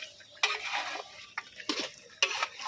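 Meat and potato curry being stirred in a pot, a few separate scraping strokes of a spoon against the metal, close and moderately loud, with quiet gaps between them.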